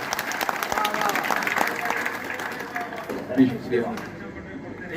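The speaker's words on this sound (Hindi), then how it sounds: "अगर आपको अच्छा लग रहा है तो जोरदार तालियां बजा के एक बार मेरी हिम्मत अफजाई करो" Applause from an audience at a mushaira poetry recital in Bodhan, strong at first and then thinning out, with voices and crowd murmur rising as it fades.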